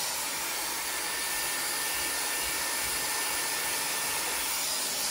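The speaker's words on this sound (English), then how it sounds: "Then you're going to take your blow dryer, you're going to turn it on and blow it throughout here." A handheld blow dryer runs at close range, blowing air through hair in a loud, steady, hissing whoosh with a constant motor hum for the whole stretch, with no talking.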